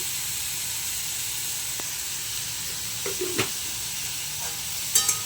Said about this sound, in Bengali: এটাকে ভালো করে নেড়ে দেব।